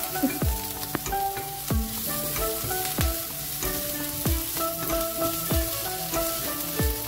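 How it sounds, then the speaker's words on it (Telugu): Sliced onions and green chillies fry in a pan with a constant hissing sizzle, punctuated by regular tapping and scraping strokes of a spatula, nearby and without speech. "ఇలా బాగా వేయించిన తర్వాత ఆనియన్స్ చిల్లీస్ బాగా వేయించిన తర్వాత"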